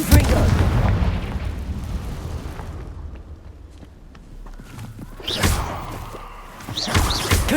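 Confringo blasting spell explosions in the video game Hogwarts Legacy, heavy booming blasts and rumbling thuds that fade to a quieter stretch before fresh bursts flare up near the end.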